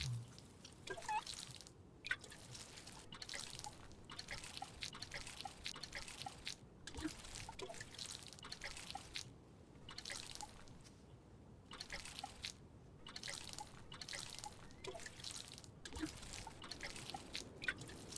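Crops being watered in the farming game Grimshire: a long run of quiet, rhythmic dripping and trickling splashes, repeated at regular intervals and fairly faint, with no talk.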